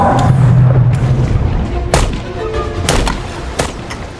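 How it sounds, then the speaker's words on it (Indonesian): Gunfire in a dinosaur film scene, with a low rumbling bed under several sharp broadband cracks spaced irregularly across the moment, loud and close. "Bobby yang hanya fokus menembak"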